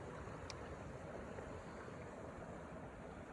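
Water running beneath the ice of a frozen-over waterfall, a steady, diffuse rush that stays even and unbroken throughout, fairly faint with a windy, hissing quality and no distinct splashes.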